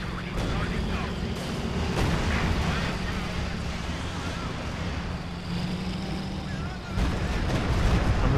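Artillery barrage in a tank and infantry battle at the Port of Hamburg in a video game: a continuous rumbling roar of booming impacts with a loud burst near the end, under a player's speech.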